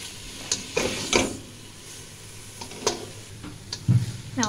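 A spoon stirring onions cooking in a pan on low heat, soft scraping clicks and taps in irregular bursts, with a faint sizzle underneath.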